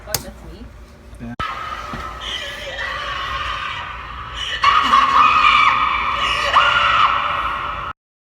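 Recorded screams for the Shadowlands haunted attraction at Knott's Scary Farm, loud, drawn-out and shrill, with layered voices and eerie effects building over several seconds before stopping abruptly.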